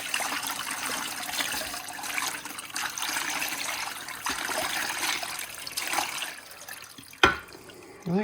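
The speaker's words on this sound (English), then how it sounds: "We'll quickly rinse these off." Tumbled amazonite stones are rinsed under running water, with a steady trickling splash that continues throughout and a brief clatter near the end.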